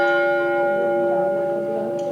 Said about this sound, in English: Ringing the bell for Harold and his Abba.